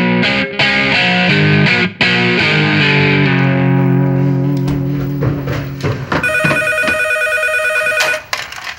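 A telephone rings loudly, starting as warbling, electronic, effect-laden tones that smear and fall away, then a sharp, repeated electronic ring near the end.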